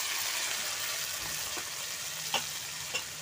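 Frying onions and tomatoes sizzle steadily in a pan as onion paste is added for a Bengali chicken curry, with a couple of soft stirring clinks near the end.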